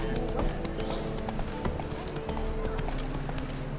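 Horse hooves clip-clop steadily on a busy Novigrad street as Roach trots in The Witcher 3, with occasional whinnies, background chatter and a continuous game soundtrack layered underneath.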